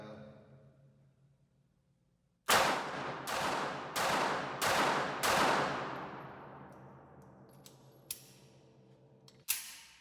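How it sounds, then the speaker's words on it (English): A Ruger LCP pistol fires five rapid shots at 5 yards on a range. The loud, sharp reports come in a quick, evenly spaced burst with long ringing decays, followed by a few faint clicks and a later single bang. "this is 5 shots, LCP 5 yards, rapid fire"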